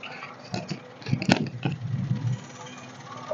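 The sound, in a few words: Maruti Wagon R car engine idling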